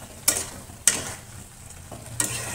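Spice paste and soft tomatoes frying in a pan, a soft continuous sizzle broken by three sharp scraping stirs of a spatula against the pan.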